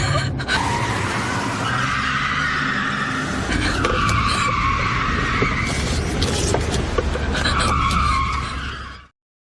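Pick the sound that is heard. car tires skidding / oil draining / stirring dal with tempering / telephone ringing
car tires skidding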